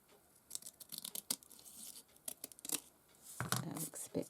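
Scissors trimming craft tape, a series of quiet crisp snips and slicing cuts that arrive in short irregular bursts close to the listener.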